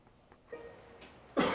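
A single short, harsh cough bursts out near the end, loud and close, after a stretch of quiet room noise with faint murmurs.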